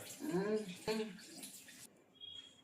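Tap water runs while someone washes, a steady hiss for nearly two seconds beneath a voice, then stops, leaving a faint room tone.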